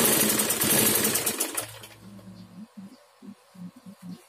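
A sewing machine stitches a kebaya sleeve in a rapid, steady whirring burst that stops after about a second and a half, followed by softer intermittent clicks and handling noises.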